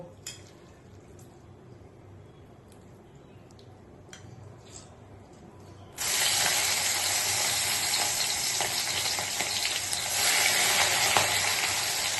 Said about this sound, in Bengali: আমি চিংড়ি মাছগুলোকে ভেজে নেব।